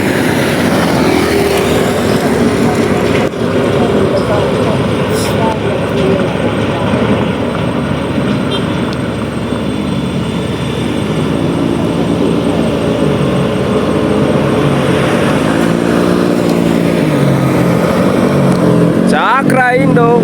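A Hino 500 truck overtaking a Cakra Indo container truck on an uphill, a constant heavy engine drone and road rumble filling the scene, with speech running over it.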